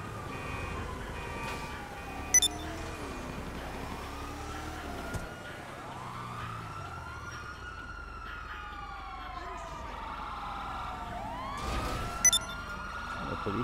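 Police car sirens in a video game wail with repeated rising and falling sweeps over a busy, low engine and traffic rumble, moderately loud and continuous, with occasional brief clatters.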